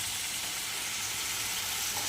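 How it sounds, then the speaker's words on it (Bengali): Prawns frying in a pan with turmeric and green chillies, a steady close sizzle with soft steam hiss that runs unbroken throughout, with no talking. "চলো চিংড়ি মাছটা একটু ভেজে"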